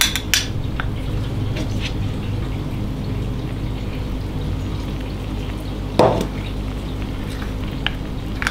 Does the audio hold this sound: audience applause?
no